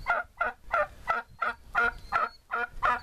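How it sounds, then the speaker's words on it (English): A flock of backyard turkeys gobbles around the listener, about eight sharp rattling gobbles in a quick, regular series, loud and close, with no talking. "I got the turkeys surrounding me"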